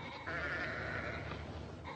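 Sheep bleat close by, a couple of drawn-out, wavering calls over a steady farmyard murmur, with no talking.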